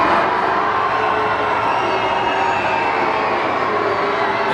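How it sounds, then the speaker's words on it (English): A large outdoor crowd outside Cardiff Castle booing King Charles and the Queen Consort on arrival, a dense, steady roar of many voices that holds at a loud level throughout with no clear breaks. "There's a lot of booing going on then."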